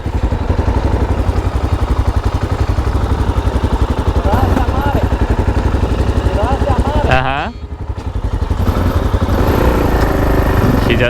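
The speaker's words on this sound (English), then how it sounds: "It looks like the motorcycle is working." Motorcycle riding on a road in Nesebar, Bulgaria, its engine droning loud and steady throughout, briefly dipping around the middle before returning, with voices talking over it.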